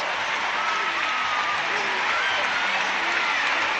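A crowd in a gymnastics arena at the 2006 Commonwealth Games applauds steadily during the individual apparatus finals medal moment, a continuous even roar of clapping with commentary talking over it.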